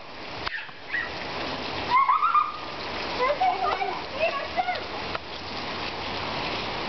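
A child plays in a rainy outdoor puddle near a waterfall, with steady broadband water noise and a few brief splashes, while an adult voice and a voice talk over it.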